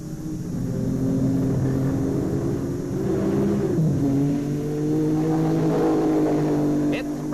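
Jack Brabham's racing car speeding down the straight at about 157 mph, a loud sustained engine note rising and shifting in pitch as it passes, with a commentator talking over it.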